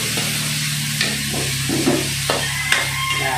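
Tomatoes and onions sauté together in a hot pan, giving a loud continuous sizzle with a low steady hum beneath and a few stirring scrapes and knocks, close up and without speech.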